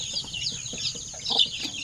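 Zampen native chickens cluck in a farm pen, with soft repeated clucks and a brief chirp close by over a steady high hum.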